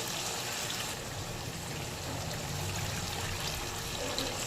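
Water trickles steadily into a pan of potato and cauliflower curry, a continuous close watery pour with a low background hum and no speech.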